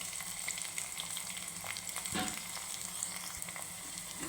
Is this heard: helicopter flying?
no